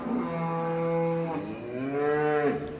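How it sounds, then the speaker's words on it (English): Heifers in a cattle shed give two drawn-out, close moos one after another, deep and resonant with a fading tail, with no talk. "These are just bulling heifers."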